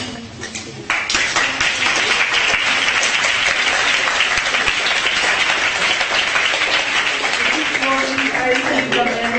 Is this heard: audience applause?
yes